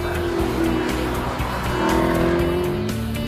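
Alfa Romeo 8C Spider convertible with a 4.7-litre V8, running at Goodwood Festival of Speed: a steady, loud engine drone with shifting pitch, a brief tire squeal and a surge in revs partway through, close by.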